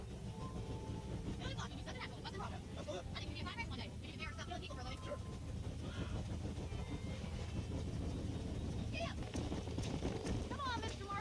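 Horse hooves clip-clopping in steady rhythm while riding toward Armadillo in the video game Red Dead Redemption, mixed under continuous game music and ambience with talking over it.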